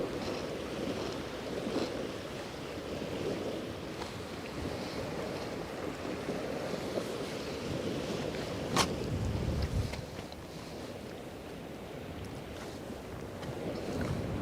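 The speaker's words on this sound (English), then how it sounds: "Nothing like the sound of waves to put you to sleep." Waves on the Westerschelde estuary wash in a constant broad rush, mixed with gusty wind buffeting the microphone, with no voices.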